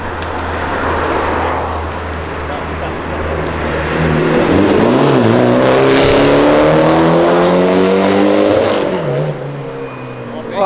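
A Mitsubishi Evo race car screams past on a street drift event, engine revs rising and bending in pitch as it closes in and goes by, loud against a busy roadside background of crowd and traffic noise.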